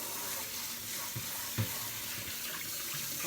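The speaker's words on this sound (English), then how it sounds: "I'm rinsing stuff off because why not?" A kitchen tap runs while things are rinsed under it, a soft steady hiss of water with a few small clunks and splashes, quiet and close, with no one talking.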